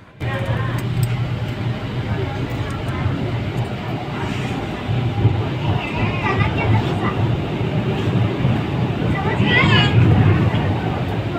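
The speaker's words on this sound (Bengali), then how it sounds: "হাওড়া ময়দান থেকে আমাদের ট্রেন ছেড়ে যাচ্ছে এবার হাওড়া স্টেশনের দিকে।" A Kolkata Metro train pulls out of Howrah Maidan station toward Howrah, its steady rumble swelling under a passenger talking nearby.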